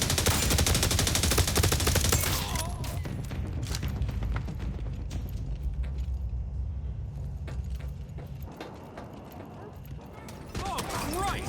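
Gunfire in The Division Resurgence video game, rapid dense bursts of shots and clattering impacts layered with game noise, loud at first and then easing back, under excited talking.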